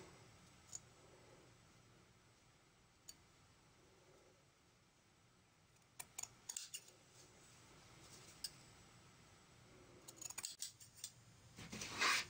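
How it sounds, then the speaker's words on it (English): Scissors trim excess seam allowance from a sewn sweater, giving quiet, close snips that are sparse at first and then come in quicker clusters near the end, faint over a low room hiss with no voices. "So we're going to cut off the excess seam allowance."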